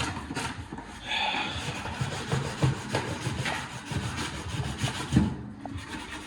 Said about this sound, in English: I hate sanding so much